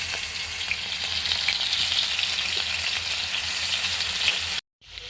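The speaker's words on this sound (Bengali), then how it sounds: "এবার ফ্রাই প্যানে দিয়ে দিলাম।" Spiced rohu fish fries in a frying pan with a steady, close, loud sizzle and crackle that runs alone without pause, then stops abruptly near the end.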